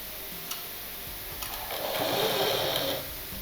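A sewing machine stitches a blouse piece with a steady close mechanical whirr that swells in the middle and then eases off, with a few light ticks and no talking.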